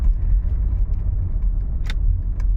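A Mercedes W124 E420 sedan drives along with a smooth, quiet, steady low engine and road rumble, broken only by a couple of faint light clicks.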